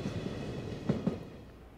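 A JR freight train rolls through Kanazawa, a low distant rumble of wagons with a couple of soft rail clacks near the middle, faint and steady before trailing off.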